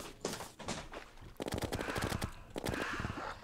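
Rapid bursts of automatic gunfire from homing chlorophyte ammunition in the video game Terraria, a few short volleys then a dense sustained stream of shots, loud and close with no talking.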